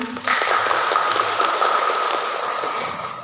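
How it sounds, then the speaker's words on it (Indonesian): A seated audience claps at the opening of a Merdeka Curriculum workshop for HIMPAUDI preschool teachers, a dense, even patter of many hands that fades slightly near the end. "Beri tepuk tangan"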